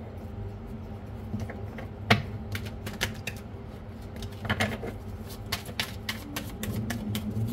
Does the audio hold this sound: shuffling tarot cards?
yes